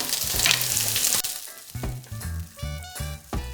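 Swiss chard stalks sautéing in garlic and oil, a sharp sizzle that flares as they hit the pan, then bursts of tossing and stirring with short clatters.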